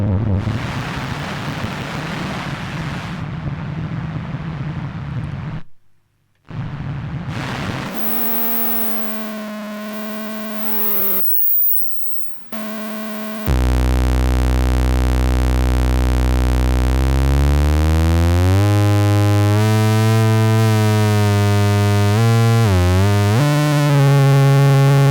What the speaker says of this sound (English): if this circuit is somehow self-oscillating, it continues so